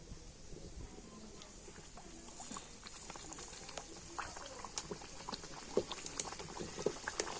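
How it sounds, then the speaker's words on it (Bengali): A rolled roti goes into lightly heated oil in a frying pan over a low flame, giving a steady soft sizzle with scattered crackles and pops, close and fairly quiet. "সেই তেলের মধ্যে এখন আমি বেলে রাখা রুটিটা দিয়ে দেব।"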